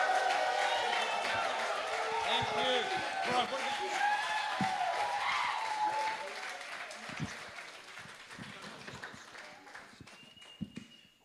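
Applause from a church rally crowd in Indonesia welcoming a pastor to the stage, a broad, loud wash of clapping that thins and fades over several seconds, with a brief spoken thanks near the end.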